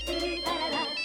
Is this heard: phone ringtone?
yes